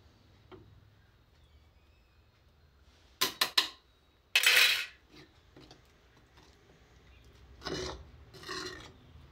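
Paneer rubbed over a grater for matka paneer gravy, heard as a few short rasping strokes in separate bursts, close and fairly loud, with quiet pauses between them.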